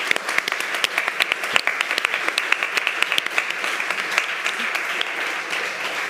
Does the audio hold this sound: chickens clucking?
no